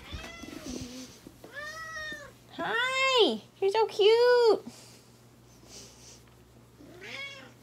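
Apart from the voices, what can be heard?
cat meowing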